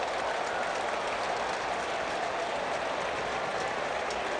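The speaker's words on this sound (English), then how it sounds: "Guys on the bench trying to clap" Players on a baseball bench clap continuously, a dense, even patter of many hands under broad crowd noise in a stadium during a Cardinals–Mets game.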